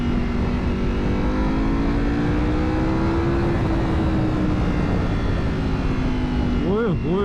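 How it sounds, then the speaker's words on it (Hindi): A Ducati V4 motorcycle engine fitted with an expensive aftermarket exhaust drones loudly nearby, its pitch climbing and settling, then ending in a few quick sharp throttle blips. "Ducati V4 engine."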